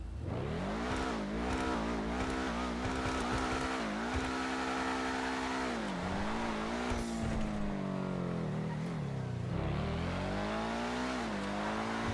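Engine of a Benefactor SM722 sports car in GTA Online, revved repeatedly in a sound test, with rising and falling pitch sweeps, loud and close, and occasional tire squeal between throttle blips.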